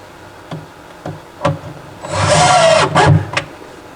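Small screws are driven into a cabinet drawer unit, with a few sharp taps and clicks followed by a steady, close whirring burst from a power driver lasting about a second, then more short knocks.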